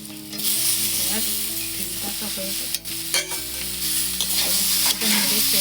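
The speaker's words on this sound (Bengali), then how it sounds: "ভেজে রাখা পেঁয়াজ কলি আলুটা এর মধ্যে দিয়ে দিচ্ছি" Pre-fried onion stalks and potatoes go into a pan with sesame paste, producing a loud close sizzle with repeated spatula scrapes and clacks of stirring, no speech.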